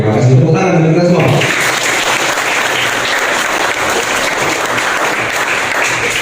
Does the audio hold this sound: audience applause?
yes